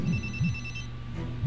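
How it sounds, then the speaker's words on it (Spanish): A telephone rings inside the Hidden Agenda (Intenciones Ocultas) video game, repeating a steady electronic trill in short, evenly spaced bursts over a low ambient game soundscape, with no one speaking. "Suena el teléfono."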